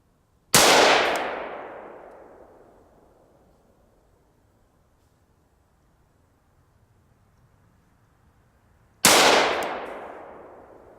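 Two loud, sharp rifle shots from a Colt M4 firing Black Hills 77gr ammunition outdoors, each a cracking blast with a long decaying echo, spaced about eight seconds apart.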